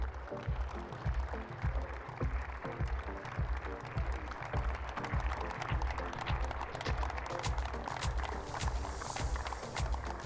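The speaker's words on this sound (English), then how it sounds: "a big round of applause for the champs" Applause for the champion school team at a tennis finals ceremony, dense and steady throughout, with rhythmic, clip-clop-like clapping that swells toward the end.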